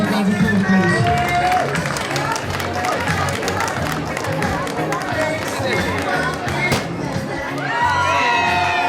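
Guests at a traveller wedding cheer, shout and clap in a loud, close crowd, with children's shrieks and excited chatter swelling and dipping throughout.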